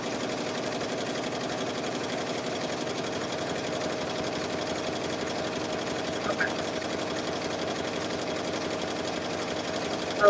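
A BAI 15-needle embroidery machine stitches an applique letter, a steady close mechanical whir with a rapid even needle rhythm running throughout, alone without speech.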